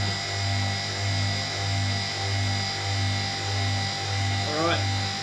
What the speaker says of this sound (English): this is pulling a vacuum at the moment